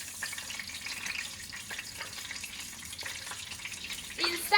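Crab coated in cornstarch pan-fries in a little oil with a soft, faint sizzle, steady and low, followed by a louder clatter near the end.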